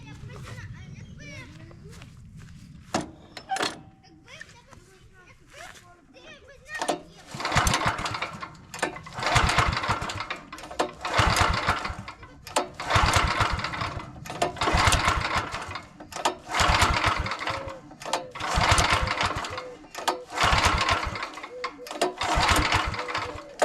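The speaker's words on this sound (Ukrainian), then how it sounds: "Тепер при вимкненому двигуні декілька разів дергаємо стартер." The recoil starter cord of a Honda GX390 engine, switched off, is yanked repeatedly, about a dozen rhythmic rasping pulls with short pauses between, each a whirring rush, after some quiet talk.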